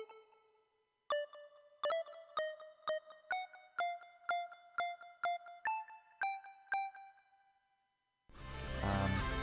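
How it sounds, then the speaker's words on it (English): Custom 8-bit pluck synth patch built in Serum, playing a bright, harmonically rich melodic line of short, evenly spaced plucked notes that step upward in pitch, ending in a brief burst of broadband noise. "there's also the synth, which is just a custom-made 8-bit pluck kind of sound within Serum"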